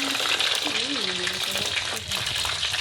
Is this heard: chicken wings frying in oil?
yes